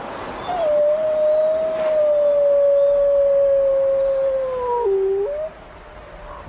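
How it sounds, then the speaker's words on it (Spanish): A wolf gives one long, clear, sustained howl that holds a steady pitch, then dips lower and breaks off near the end, loud over a soft outdoor background hiss. "Dakota está buscando desesperada a Cherokee, pero sus aullidos no obtienen respuesta"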